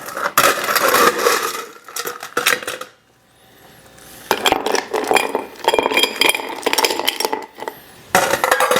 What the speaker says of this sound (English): we're going to fill it up with ice